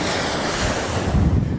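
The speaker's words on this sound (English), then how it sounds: "We don't have that ocean noise and waves, roaring and all that good stuff." Ocean surf roars in a steady, loud wash of breaking waves, mixed with gusty wind buffeting the microphone; there is no talk.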